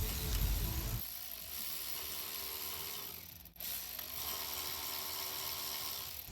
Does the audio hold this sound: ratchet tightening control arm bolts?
yes